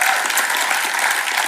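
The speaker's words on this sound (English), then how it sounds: "it's worth an applaud actually." Audience at a film industry symposium keynote breaks into dense, sustained applause, many hands clapping steadily and loudly throughout with no pause.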